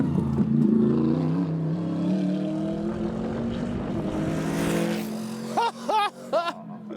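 A Mercedes GT3 race car at Blyton Park sweeps around a corner with a loud, rising then falling engine roar as it passes close by, fading away before people speak excitedly.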